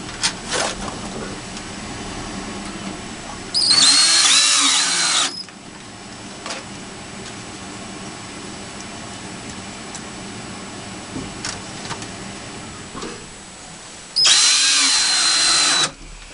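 A power drill drives screws to secure an electrical box while wiring a gas furnace to a generator, giving two loud, close whirring bursts of about two seconds each, separated by quieter handling noises.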